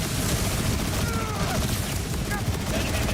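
Dense, continuous video-game gunfire in Borderlands 4 during a boss fight, loud heavy volleys blending into a roaring wall of shots and explosions with no clear gaps.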